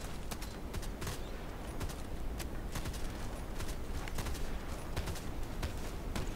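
RFB rifle gunfire in the shooter game Contract Wars comes as a steady stream of rapid, dense shots that barely let up, with a few sharper cracks standing out.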